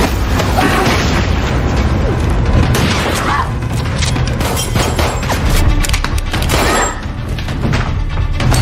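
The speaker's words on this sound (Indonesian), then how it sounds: "Lisa mengeluarkan granat dan langsung meledakkannya, sehingga baku tembak pun tak terhindarkan." A grenade blast and gunfire in an action film about a woman fighting a cartel, heard as a dense, loud mix of booming thuds and pops under a continuous soundtrack, with no clear separate bangs.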